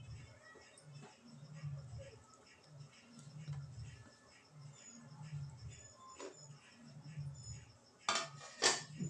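A spoon stirs cooked sweet potato into boiling milk for kheer, with faint metallic scrapes and clinks against the pot and soft bubbling, close by under quiet talk, ending in a few sharper knocks.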